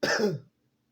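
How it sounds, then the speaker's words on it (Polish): A single short, close throat-clearing cough from an indoor speaker, a rough burst of half a second followed by quiet. "Przepraszam za kaszle"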